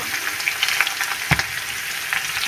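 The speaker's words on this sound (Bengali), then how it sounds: "আর চুলার আঁচটা আমি মিডিয়াম লো করে দিয়েই ভেজে নিয়েছি।" Lamb chops sizzle and crackle steadily in a pan over medium-low heat, a close, continuous fry with scattered pops and one brief clatter midway, no voices.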